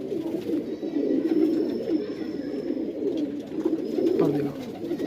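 Madrasi pigeons, including a yellow-eyed Kalma Bajra pigeon, coo in a low steady murmur that runs throughout, fairly near and continuous.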